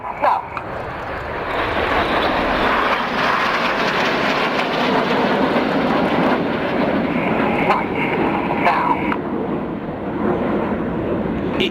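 Red Arrows RAF jets in big battle formation at the 2014 airX Malta International Airshow, a continuous loud broadband roar that holds steady for the whole span without a break.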